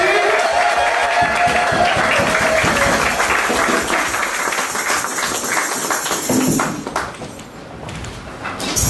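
A church congregation applauds loudly for several seconds, a dense, close patter of many clapping hands that thins out and fades toward the end.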